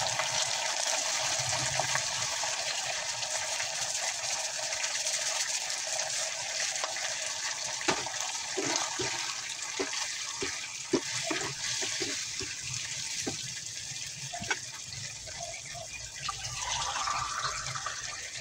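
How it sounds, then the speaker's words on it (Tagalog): Water pours into a pan of sautéed sigarilyas (winged beans) with sardines, a steady close gushing flow that runs throughout, with light clinks and ticks of cookware in the middle stretch and no speech. "Lagyan natin ng konting tubig at pakuluan ito ng 3 to 4 minutes."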